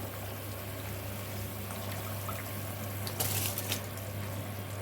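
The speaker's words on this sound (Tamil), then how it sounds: "இப்போ இந்த ஸ்டேஜில் நம்ம கழுவி வச்சிருக்க அரிசியை சேர்த்துடலாம்" Washed rice poured into a pot of boiling water on the stove, a steady bubbling hiss under a low hum, with a brief brighter splash and rattle as the grains go in near the end; no speech.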